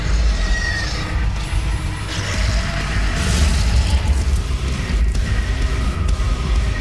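A detonated charge goes off in DOOM Snapmap, a broad booming blast with rumbling tail amid ongoing game noise, loud and close, with further thuds and hiss following.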